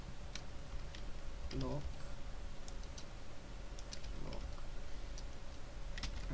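Brief bursts of clicking keystrokes on a computer keyboard, faint against steady background hum, with a person speaking quietly over them.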